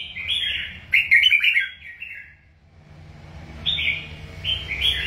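A red-whiskered bulbul sings close by, giving bright clustered chirps and whistled phrases in two bursts separated by a quiet gap, with faint low background rumble.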